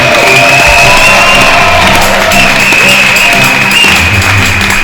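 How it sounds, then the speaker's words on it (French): Church congregation clapping and cheering loudly together, with shouts and whoops over dense applause and a sustained musical tone beneath, all at full volume without pause. "est-ce qu'on peut entendre les acclamations de ceux qui aiment leur prochain?"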